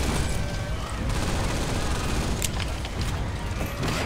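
Enemy robots fire constant dense gunfire in the Shoot Many Robots game, a loud continuous clatter of shots and blasts with sharp bursts standing out, mixed with game noise.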